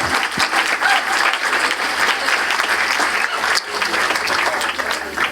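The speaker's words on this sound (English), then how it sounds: "I think that deserves a round of applause." Audience applause at a talk event, dense continuous clapping from a crowd, fairly loud and steady with a brief dip partway through and faint voices mixed in.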